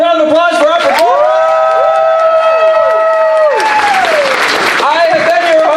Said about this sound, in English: Give them all a round of applause for our performance.